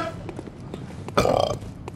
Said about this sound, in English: I leaned over and pushed a burp out.